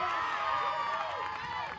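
Enthusiastic home crowd at a packed Jefferson College women's junior college softball game, a steady roar of voices in the stands, loud and constant across the short span, with an announcer talking over it.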